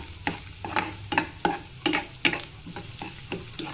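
Chopped onion and chicken cubes frying in two spoons of oil in a pan, a steady sizzle punctuated by about nine regular scraping stirs of a spoon, close and clear with no talk.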